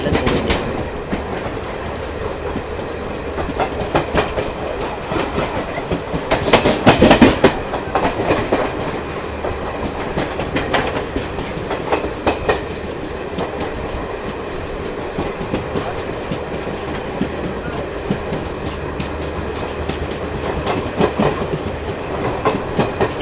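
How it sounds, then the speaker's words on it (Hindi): Garib Rath Express train running fast alongside the Ajmer Express on a parallel track, a steady loud rumble of wheels and rattling carriages with rhythmic clickety-clack and a brief louder burst as cars pass close. "यहाँ हम पूरी अजमेर एक्सप्रेस को पैरेलली ओवरटेक कर रहे हैं।"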